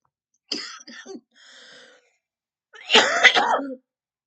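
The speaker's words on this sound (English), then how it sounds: "So just be a little patient with me today if I'm coughing a little bit." A few harsh coughs from a man with a cold close up, a short breathy pause, then a louder cluster of rough coughs, with no talking.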